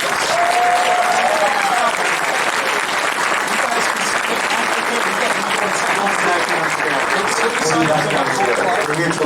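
Sustained audience applause fills a convention panel hall at Wizard World 2017 Cleveland, steady and loud throughout with dense crowd noise and occasional voices underneath.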